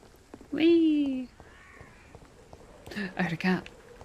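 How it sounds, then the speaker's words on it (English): A cat meows in the dark gothic world of the Vampyr video game, one drawn-out yowl up close followed by a fainter mew and then a couple of shorter, louder cries, with no talk over it. "I heard a cat."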